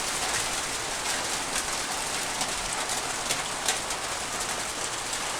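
Heavy rain pours during a storm in a flooded village, a dense, steady roar of drops on surfaces with faint scattered patters, continuous and without talk.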